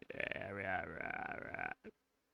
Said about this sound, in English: They're putting in this weird little creepy croak background voice for no reason.